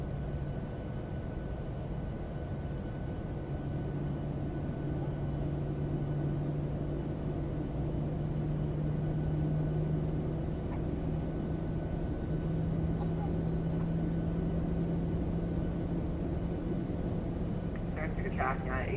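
Boeing 737 jet engines spool up in Microsoft Flight Simulator, heard from the wing as a steady, rising turbine whine and rumble that holds for a long stretch, with a few faint clicks near the end.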